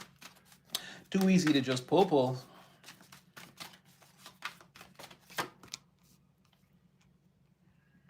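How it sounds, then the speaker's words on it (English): Tarot cards are shuffled with rapid riffling and flicking, some tapping after, while a person briefly speaks near the start. "I want to shuffle that again"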